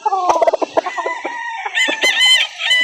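Rooster crows and hens cluck at a gamefowl breeder's farm in Calauan, Laguna, with a busy run of short clucks followed by a loud, nearby drawn-out crow.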